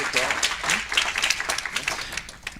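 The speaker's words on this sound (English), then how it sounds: "We have a round of applause for Dr." Applause for two doctors at an international symposium on malignant mesothelioma, a modest round of clapping from a conference audience, uneven and fairly close, with a voice talking over it.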